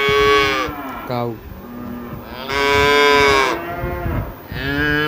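A cow moos loudly and close, three long drawn-out lowing calls separated by brief pauses, with no other sounds around them.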